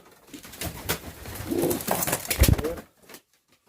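A pigeon coos softly a few times close by, amid rustling and light handling noise before it falls quiet.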